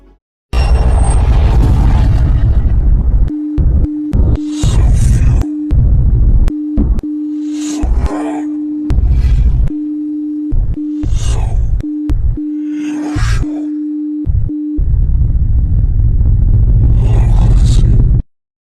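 A song's ending played backwards, reversed swells and smeared bursts, is cut through by a steady series of short and long Morse code beeps that stop before the loud reversed music returns alone at the end.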